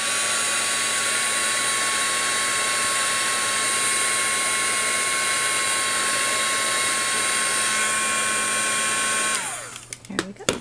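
A handheld heat drying tool blows a steady, loud whirring stream of air over distress-coloured ink on a birthday craft tag, then switches off and winds down near the end, followed by faint handling noises.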